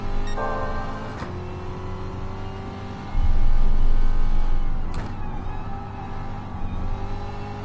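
A Gr.3 race car engine in GT Sport drones steadily at the Nordschleife, its tone shifting through the revs, then surging louder for a couple of seconds before easing back to a sustained hum.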